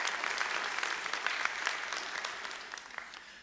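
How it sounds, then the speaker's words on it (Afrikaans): Church audience at an Easter song service clapping hands together, a dense, steady wash of applause with no talk, gradually fading slightly toward the end. "So ek wonder of ons nie vir jou ten minste hande klap nou nie."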